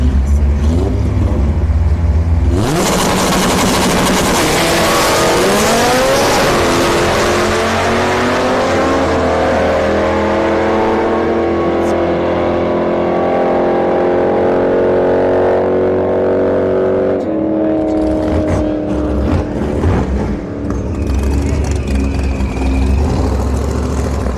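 A Nissan Sentra with a naturally aspirated SR20 and a Dodge Dart launch in a drag race at Orlando Speed World, a loud engine roaring up through rising revs and gear changes, then fading as another engine idles nearby; no talk.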